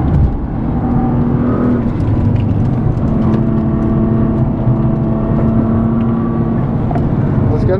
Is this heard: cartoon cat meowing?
no